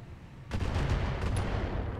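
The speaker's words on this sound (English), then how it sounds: "It's a lot of LRMs being shot at us" A barrage of LRM missiles is fired at mechs in the BattleTech video game: a heavy, rumbling volley of booming launches starts abruptly and carries on as a dense, continuous roar.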